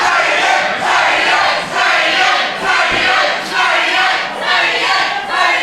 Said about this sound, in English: I believe the fans are cheering Zadian?